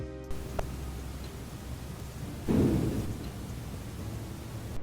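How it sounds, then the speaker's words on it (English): A sudden heavy bang lands mid-clip, a dull booming thud that rumbles and decays over a low, noisy background hum. "sounds like something banging on the elevator doors right outside the room"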